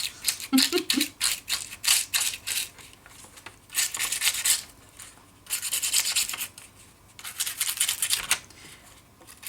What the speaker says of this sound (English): It's just an old toothbrush.